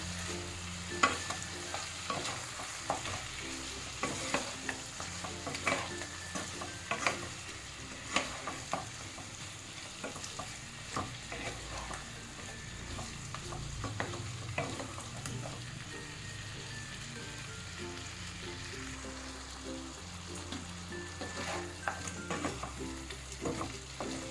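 Chili and coriander powder masala fries in a pan for chicken curry, giving a soft continuous sizzle. A spoon stirs and scrapes with repeated clicks and taps, and no one speaks.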